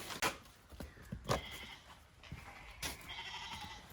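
A goat on a homestead bleats several times, close and clear, the calls spaced irregularly with quiet shuffling between them.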